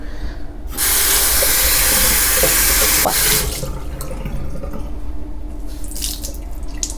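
A tap gushes water onto a makeup sponge in a steady hissing stream for a few seconds, then cuts back to a quieter trickle amid background rumble of snow-clearing trucks.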